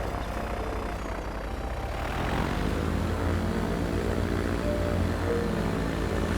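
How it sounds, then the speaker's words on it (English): Prototype propeller airplane taking off in the video game Transport Fever 2, its engine droning steadily and building in intensity, loud and continuous with no talk. "let's watch the plane taking off for the first time"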